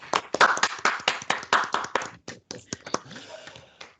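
Applause at a municipal council meeting: a short, irregular burst of hand claps, close and fairly loud, thinning out toward the end, with some speech mixed in.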